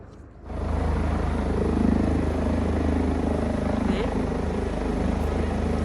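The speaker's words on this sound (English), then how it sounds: "the helicopter seems to be going away." A helicopter drones steadily over a ski hill, a broad low rotor rumble that stays constant and fairly distant as it moves away.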